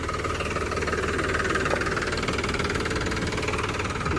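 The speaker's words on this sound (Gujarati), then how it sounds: "આપણું ટ્રેક્ટર આવી ગયું છે." A tractor engine runs close by with a steady, throbbing diesel knock, loud and continuous throughout, no voices.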